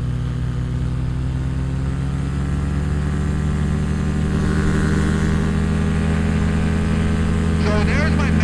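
An ultralight aircraft engine in flight at maximum continuous power, about 6,500 RPM at roughly 70 mph: a loud, steady, buzzing drone with strong harmonics and constant wind roar throughout.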